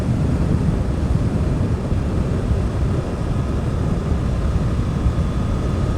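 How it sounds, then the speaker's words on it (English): Continuous heavy wind blast roaring over the mic while riding a Suzuki GSX-8R motorcycle at speed, a thick low-frequency rush holding steady for several seconds, no speech. "I can feel the wind blast a lot more"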